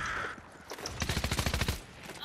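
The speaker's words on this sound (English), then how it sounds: "someone's shooting me? From where?" Rapid automatic gunfire from a video game, a tight burst of about a dozen evenly spaced shots lasting under a second, close and loud, with a single shot just before.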